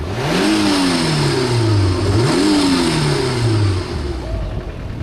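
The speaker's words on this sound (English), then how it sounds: "he's going to rev it up for me and we'll get a bit of noise" Turbo-converted MG F engine revving hard several times, pitch sweeping up and falling back in repeated loud surges before settling, close by with no talk over it.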